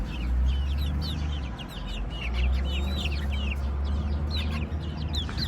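Gurk hens, a rooster and chicks cluck and peep close by, a busy scatter of short calls over a low rumbling background.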